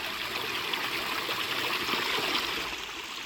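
Water from a backyard pond waterfall splashes and trickles in a continuous, even rush, close and steady throughout with no voices.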